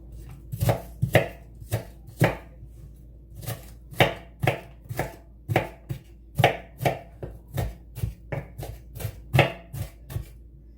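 A knife chops onion and carrot on a cutting board in a home kitchen, with about twenty crisp, close knocks falling in a fairly even rhythm and no talking.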